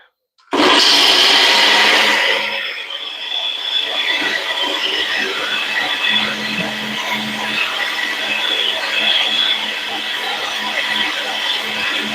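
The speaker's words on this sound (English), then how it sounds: "Forgot to warn you about the blender" A countertop kitchen blender starts abruptly and runs loud and steady for about twelve seconds, with a whirring motor hum and no pauses.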